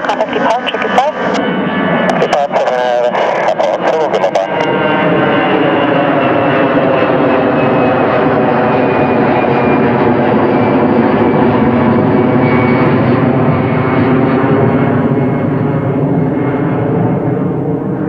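A Boeing 737-200 jet takes off from runway 32 at Zurich airport, its loud, sustained engine roar filling the whole stretch and steadying as it climbs, with some brief clattering noise near the start.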